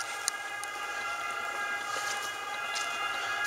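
A steady, distant police boat siren wails in a sustained tone over outdoor ambience on Venice's Grand Canal, with a few faint clicks and knocks scattered through.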